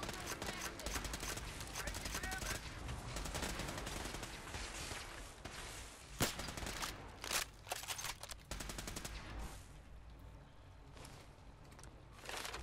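Weapon fire in the video game Fallout 4: a few sharp gunshots crack out near the middle and later part, over a busy game soundscape with hoof-like clatter and someone talking throughout.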